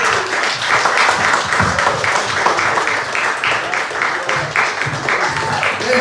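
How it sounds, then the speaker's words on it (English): Comedy club audience applauding comedian Jack Bartlett at The Attic, steady dense clapping sustained throughout, loud and close. "Keep your clapping going"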